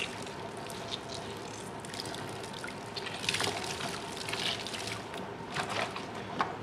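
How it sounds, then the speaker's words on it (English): Water drips and trickles steadily as excess water is gently squeezed from the feathers of a freshly washed bird. The soft continuous dribbling is close and quiet, with no talking. "I just gently squeeze all the excess water out I can get out."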